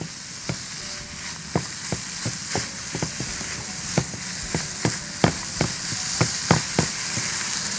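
Minced meat sizzling in a pan for a bird's tongue pasta tagine, with steady frying hiss and regular clacks of a spoon stirring, loud and close, no talking.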